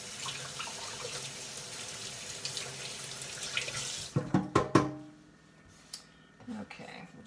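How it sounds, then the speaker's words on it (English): Water runs from a kitchen tap as hands are rinsed, a steady close splash that stops abruptly, followed by a few clinks and knocks nearby. "Rinse my hands off there again."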